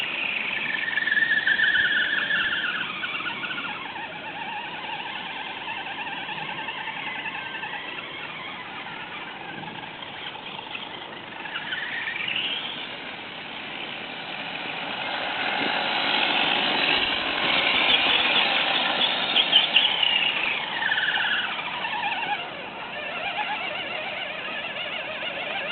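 An FTX Kanyon RC car runs with a steady motor whine and high squealing that rises and falls through the whole stretch, close and fairly loud with no talking.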